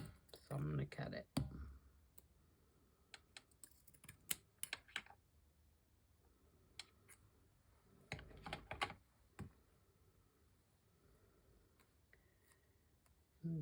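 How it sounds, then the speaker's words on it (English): Scissors cutting through stiff lace in short bursts of crisp snipping and clicking, with clusters near the start, middle and end separated by quieter gaps and a few isolated ticks. "this lace is really stiff and it will not rip in a straight line. So I'm going to cut it."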